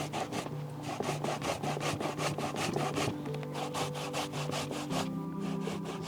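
Hand grating of chopped cassava for Garifuna sahou in Hopkins, a steady rapid back-and-forth rasping scrape of root against grater, close and continuous, with no talk.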